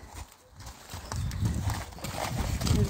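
A horse walks along at an endurance riding competition, its hooves clip-clopping in a steady rhythm that grows louder and nearer, with faint background noise and no clear speech.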